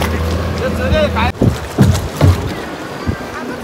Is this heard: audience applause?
no